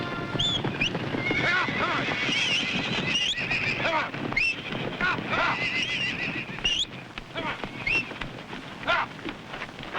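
Horses on a ranch corral neighing and whinnying repeatedly amid clip-clopping hooves and rain-like background noise, with people talking over the scene.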